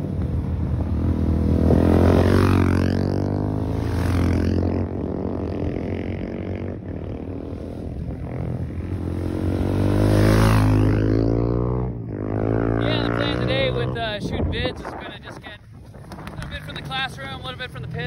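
Supermoto motorcycles lap a track at Socal Supermoto, engines swelling loudly as they pass close, fading, then returning with revving and gear changes, under wind buffeting.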